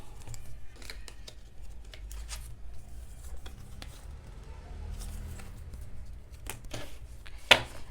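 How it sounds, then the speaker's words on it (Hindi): Tarot cards shuffled by hand, giving soft, quiet papery flicks and riffles over a low background rumble, with no talking. "जल्दी से फोकस कीजिए जब तक मैं कार्ड शफल कर रही हूँ।"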